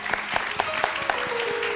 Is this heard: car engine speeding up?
no